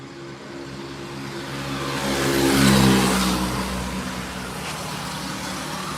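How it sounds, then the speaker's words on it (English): A motor vehicle engine swells as it approaches and passes on a busy street in the Philippines, peaking loudly mid-way with a rising then falling pitch before fading back into steady traffic hum. "a lot of motorcycles are flying by here"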